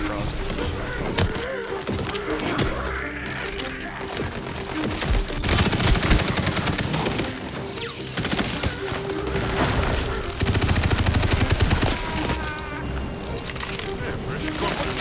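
Gunfire in the video game Tiny Tina's Wonderlands: rapid, dense bursts of shots and booms layered over game music and effects for the whole stretch, loud and continuous, with a voice talking at times underneath.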